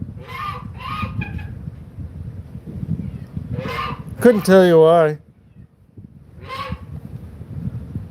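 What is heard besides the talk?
goose honking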